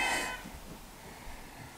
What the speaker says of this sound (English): Oh, we have the cat shouting.